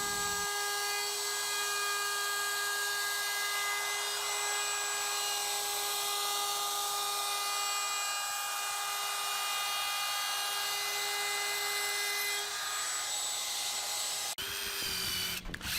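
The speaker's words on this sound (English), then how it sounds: "I'm going to go ahead and put a chamfer on the edge of the armrest pieces themselves." Power tool putting a chamfer on the edges of wooden armrest pieces for a garden bench, a steady high whine running for about fourteen seconds before it cuts off.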